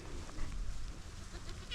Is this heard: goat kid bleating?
yes